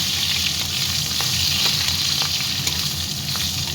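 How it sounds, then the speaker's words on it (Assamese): Large-cut onions and bay leaves frying in oil in a pressure cooker: a loud, continuous close sizzle with faint stirring scrapes throughout, and no voice. "ডাঙৰকৈ কাটি থৈছিলোঁ পিঁয়াজ মই দি দিছোঁ। ভালদৰে অকণমান ৰঙচুৱা কৰি লওঁ।"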